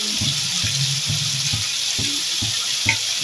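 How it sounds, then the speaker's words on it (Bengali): Vegetables sizzling in fish oil in a pan for spinach stems cooked with fish oil and fish head, a steady bright hiss with soft stirring knocks and scrapes throughout, loud and close with no talking. "এই সবজিগুলো এই মাছের তেলেই একটু ভাজতে হবে"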